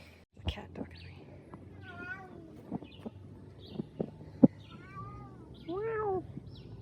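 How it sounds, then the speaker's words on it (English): A cat meows repeatedly in a series of rising and falling calls, close by and fairly quiet, with soft sounds from a person in between, on a trip in Costa Rica. "The cat talking to me."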